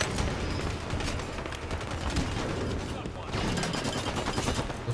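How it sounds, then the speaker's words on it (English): Dense, continuous automatic gunfire from Halo 5 multiplayer, rapid bursts overlapping into a steady loud barrage with a brief dip near the middle before resuming, and faint voices underneath. "They're shooting at the dead body."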